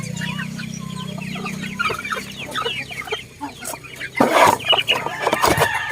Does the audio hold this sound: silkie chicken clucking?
yes